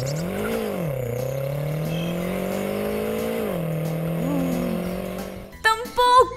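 Cartoon car driving effect: a steady engine-like hum with rising and falling pitch sweeps, continuous and fairly loud, ending in a brief clatter of other sounds.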